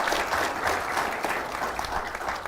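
Audience applause at a healthcare management conclave, a dense, loud burst of many hands clapping that continues evenly and close by for the whole moment.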